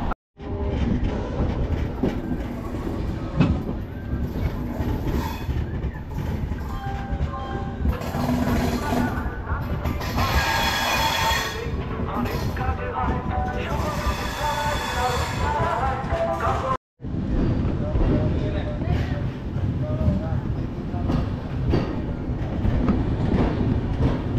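An express train rumbles steadily along the rails on the Howrah to Ghatsila line near Kharagpur Junction, with rhythmic wheel clatter and a rising metallic whine, loud and continuous, briefly cut off near the end.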